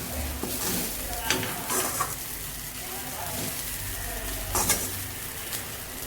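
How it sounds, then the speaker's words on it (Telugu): Sticky Maharashtra-style poha stirred in a pan, a steady scraping and soft sizzling with a few sharper clinks of the spoon against the pan, close and fairly quiet throughout. "సో ఇప్పుడు దీన్ని మనం మంచిగా కలుపుకుందాం, సరేనా?"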